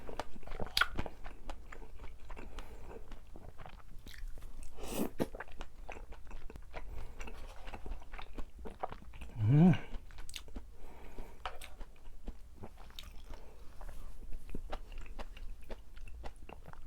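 Close, wet chewing and soft crunching of spicy tteokbokki with beef brisket, irregular bites and mouth sounds at low volume, with a brief murmur partway through.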